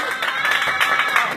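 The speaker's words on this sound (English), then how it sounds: "there's a victory clap" Applause and clapping from a crowd at a men's doubles tenpin bowling medal round, a dense steady patter of many hands lasting throughout with some cheering mixed in.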